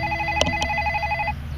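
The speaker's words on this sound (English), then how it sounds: "And there goes the phone." A telephone rings while a White's V3i metal detector is swept over a park, its steady electronic tone pulsing evenly for over a second, fairly clear and close.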